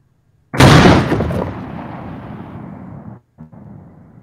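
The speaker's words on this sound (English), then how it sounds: "Ooh, yeah, I hear that ka-chunk as it shifts back." A cannon fires with a loud, close, sharp blast that rings out and decays over about two and a half seconds, then a short mechanical ka-chunk of the gun shifting back on its carriage follows, all alone with no talk.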